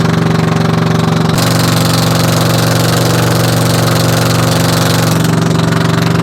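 A loud, steady vehicle engine drones continuously up close with a rough mechanical rattle, its pitch shifting slightly partway through, on a ride in Dumagat, Bulacan.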